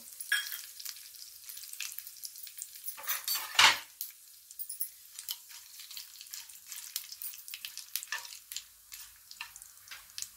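Mustard seeds, cumin and green chilies fry in hot oil over low heat, giving a light crackle and patter of small pops. A metal spoon clinks against the pan now and then, with one louder scrape partway through.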